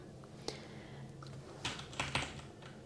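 Sparse keystrokes on a computer keyboard, several scattered taps and a small burst of arrow-key presses, close and fairly quiet over a low steady hum.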